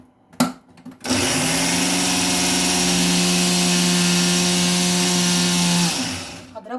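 An electric blender grinds a kibbeh mixture in a loud, steady whirring drone for about five seconds, then winds down, after a brief clatter at the start.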